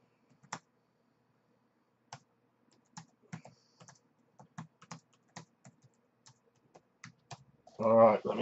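Scattered clicks of typing on a computer keyboard, quiet and close, in irregular short bursts across several seconds, ending with a brief louder muffled voice.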